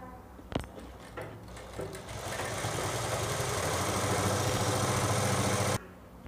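Sewing machine stitching a joined 1.5-inch cotton strip into piping for a bra cup, starting after a few faint clicks and running as a steady, close mechanical whir for about five seconds before stopping abruptly.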